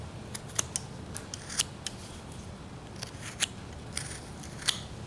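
Knife carving back a wooden roughout figure, shaping near the head: a scattering of close, crisp little cuts and snicks, some sharper than others, over a low steady background with no talking.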